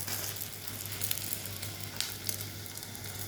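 Indomie noodles fry in an iron pan with a steady, close sizzle and small crackling pops, no voices over it.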